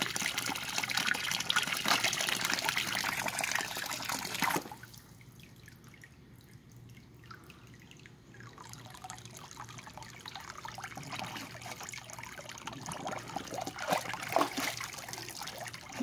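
Water running and dripping beside a backyard pool, a steady wash of trickling and splashing that drops away briefly, then returns as scattered drips and gurgles.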